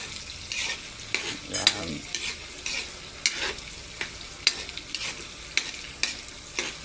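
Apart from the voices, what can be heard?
water spinach and tofu being stir-fried in a pan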